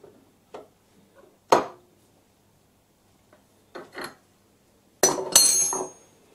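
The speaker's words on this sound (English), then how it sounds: "I'm going to check it again after I tighten up the nut." Metal clinks and clacks while a nut is tightened on a 12mm boring bar holder in a machine shop. The knocks are sparse and close, with a louder burst of clattering toward the end.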